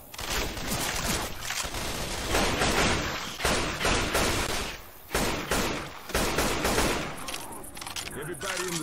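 Rifle fire in Left 4 Dead 2 during The Parish campaign on expert difficulty: loud rapid bursts of gunshots with thuds and cracks, repeated over several seconds, while players' voices talk over the action.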